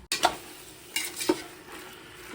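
Tomatoes with salt sautéing in a pan for a Tamil home-cooked dish, with a low steady sizzle broken by a few sharp scraping stirs of a spoon against the pan, close and clear with no talking.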